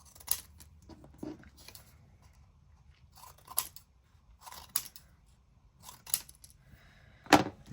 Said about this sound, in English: I'm just gonna cut some strips.